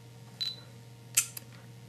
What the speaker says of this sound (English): Hear the beep, and you hear the shutter.